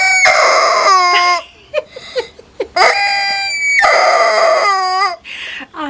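Young chickens' chirps and squawks repeat in loud bursts with short pauses, high-pitched and close, with no talking.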